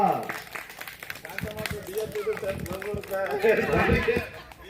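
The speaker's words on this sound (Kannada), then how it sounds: "ಅವ್ರಿಗೆ ಜೋರಾಗಿ ಚಪ್ಪಾಳೆ ಮೂಲಕ" Audience applause at a Ganesh Chaturthi festival celebration and first-anniversary event, a burst of clapping and crowd noise with some voices mixed in, fairly loud and sustained for a few seconds.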